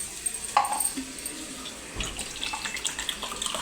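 Water poured into a pot of curry made with goat head meat, a soft, uneven splashing trickle with small bursts, fairly quiet and heard alone.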